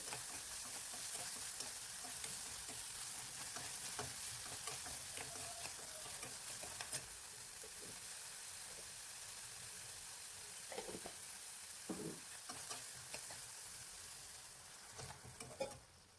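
Banana stem palya stir-frying in a pan for an Udupi-style meal, a steady broad sizzle with repeated scraping and stirring clatters throughout, close and fairly quiet, with no talking.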